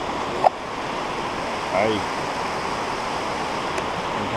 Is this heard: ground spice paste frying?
no